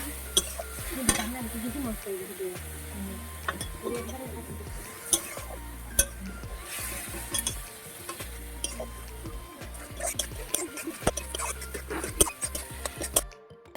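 Soaked spice paste frying in a pan for a prawn fritter curry, with a steady sizzle under irregular scraping and clinks of stirring against the pan throughout.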